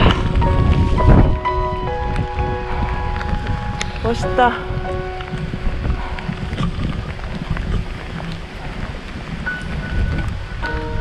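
Heavy rain drums on the fabric of a Hilleberg solo tent during a backpacking trip, a constant close hiss with gusts of wind, and a voice speaks briefly early on.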